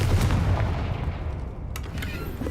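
A Confringo fire spell explodes in the Hogwarts Legacy video game, a loud booming blast up front trailing into a rolling low rumble with a few sharper crackles later.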